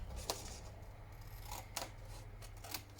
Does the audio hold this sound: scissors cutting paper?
yes